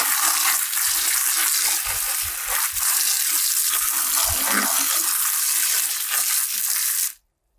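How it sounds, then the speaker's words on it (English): A strong water spray rinses a cloth diaper, a loud continuous hissing rush with some splashing that runs for about seven seconds and then cuts off abruptly. "And then I just spray it off."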